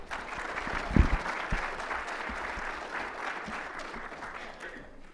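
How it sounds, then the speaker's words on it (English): Audience applause at a technical conference talk introducing a data analysis plugin, a steady wash of clapping from a seated crowd, fairly close, with one or two louder claps near the start and no voices over it. "So warm round of applause"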